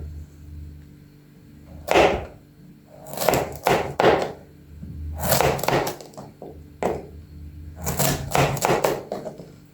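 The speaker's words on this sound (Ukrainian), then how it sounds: "Спочатку я нарізаю пластинками" Knife cutting washed beetroot into flat slices for fermenting, heard as a series of sharp, close thunks on a board, arriving in quick clusters of two or three with short pauses between.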